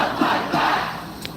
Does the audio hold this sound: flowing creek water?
no